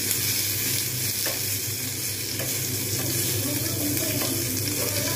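Curry leaves frying in oil in a pan for a red lentil dal, giving a steady, loud bubbling sizzle that carries through without a break, with a few faint stirring clicks and no talking.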